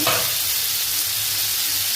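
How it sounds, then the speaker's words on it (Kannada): Steady, loud sizzling of food frying in hot oil for two minutes while making tomato sambar, a continuous crackling hiss with no voices. "2 ನಿಮಿಷ ಈ ಥರ ಎಣ್ಣೆ ಒಳಗೆ ಫ್ರೈ ಆಗಿದ್ರಿ."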